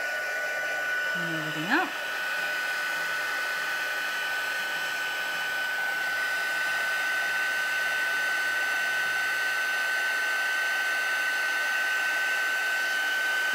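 A heat gun melts gold embossing powder on a stamped Venetian mask craft, running as a steady, loud blowing whir for the whole stretch after a brief spoken remark at the start.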